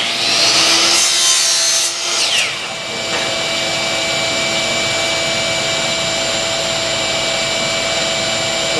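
A saw rasps through 10-millimetre wooden batten stock for a one-design sail, a bright, close cutting burst over the first couple of seconds before a steady machine hum carries on alone.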